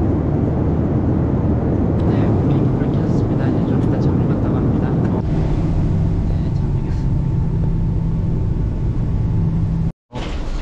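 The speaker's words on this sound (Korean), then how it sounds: "비행기 올랐습니다." Steady, loud cabin drone inside an airliner after boarding a night flight to Ulaanbaatar, Mongolia: a continuous low rumble and hiss with faint background murmur, dropping out briefly near the end.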